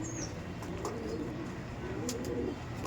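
Teddy pigeons, an Oman Teddy female and a male, give soft low cooing murmurs close by in a steady run against a constant background hum, with a couple of faint brief clicks.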